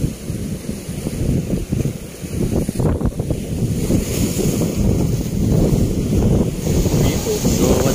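Surf crashes and churns close by amid heavy wind buffeting the microphone, a continuous loud roar of open water.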